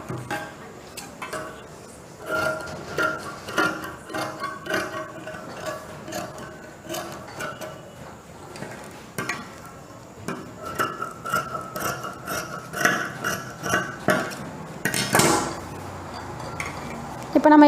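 Scissors cut through blouse fabric to shape a sleeve, a close, irregular run of crisp snips and soft rustles of cloth that keeps going throughout with no talking.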